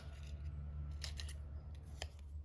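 Small Singer scissors cut paper scraps, giving a few crisp close snips in quick succession followed by one more isolated snip over a low steady hum.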